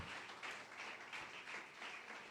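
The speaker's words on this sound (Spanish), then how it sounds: "Dele ese fuerte aplauso a Rey de Reyes y Señor de Señores." A church congregation applauds, a dense, even wash of many hands clapping together, heard from some distance and sustained throughout without speech.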